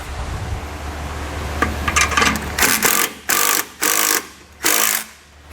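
Wrench work on the bolts of an air helper spring bracket on a 2019 Chevrolet, with a short low mechanical whir followed by several sharp bursts of metallic ratcheting separated by brief pauses, close and clear.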